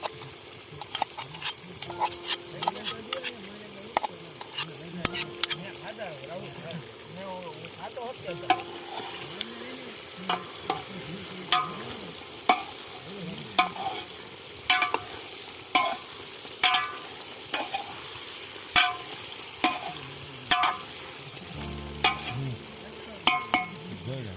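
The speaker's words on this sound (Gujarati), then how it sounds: "હવે આ મરચાં ને આદુ ખાંડેલું નાખી દેવું અંદર આપણે." Chili and crushed ginger fry with brinjal in a pan, sizzling steadily while a utensil stirs and scrapes in frequent close clacks, with brief bits of speech.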